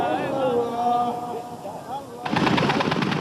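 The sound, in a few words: machine gun fire in combat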